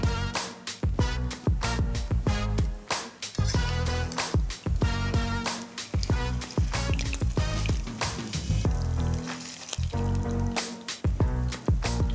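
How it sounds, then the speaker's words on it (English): Curry prawn patties sizzling and crackling in shallow vegetable oil, with sharp pops and spatters over a continuous frying hiss, close up. "We're just going to fry them in some vegetable oil, shallow fry them for about a minute on each side."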